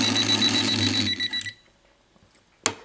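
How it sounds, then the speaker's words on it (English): A liquid level indicator gives a loud, continuous electronic beeping alarm as water reaches its metal prongs, running about a second and a half, then cutting off, leaving near silence with a few faint clicks. "as the water hits the metal prongs on the liquid level indicator, it will start beeping"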